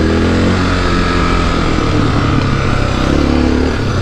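A lowered Honda XR650L dual sport motorcycle rides off road through mud, its single-cylinder engine loud and close with a steady throbbing drone and no talk over it.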